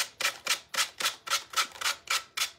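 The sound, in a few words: sanding wood with 120 grit sandpaper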